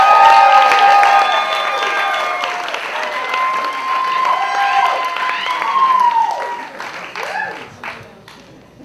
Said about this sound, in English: Let's keep those round of applause going for this next guy who's also fantastic